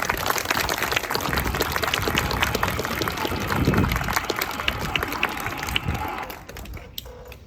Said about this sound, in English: let's give Jeffrey T., our guests, family members, scouts, and yourselves a big round of applause